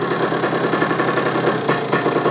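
A 1977 Yamaha IT175 dirt bike engine runs steadily at close range with a rough, throbbing idle and faint knocking, the two-stroke drone holding level throughout.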